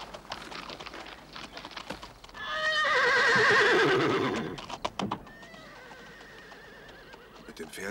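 A horse whinnies loudly once, a long wavering neigh that rises and fades over a few seconds, with quieter stirring and thuds around it.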